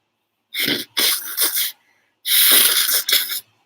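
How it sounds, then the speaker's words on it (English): Nose blown hard several times in close, wet honking bursts, two quick ones, a pause, then a longer blast followed by a short one. "Sorry, I'm blowing my nose"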